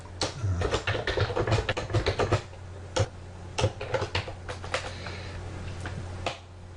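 Fingers type on a computer keyboard in quick clustered bursts of sharp, close clicks, broken by short pauses, with no voice.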